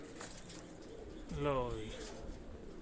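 A soft, low coo from a female pigeon rises and falls once, close by, over faint background murmur.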